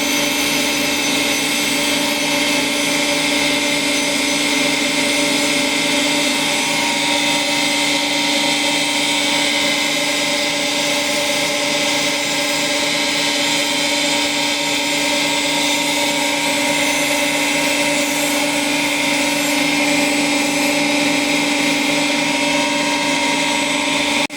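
Steady, loud mechanical whine of a grinder working a Willys engine cylinder bore, continuous and unbroken with strong tonal hum, no voices.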